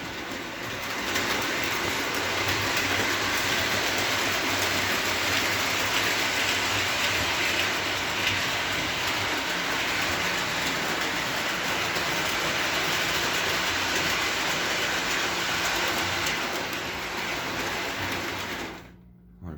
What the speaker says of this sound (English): But beautiful pulling little locomotive.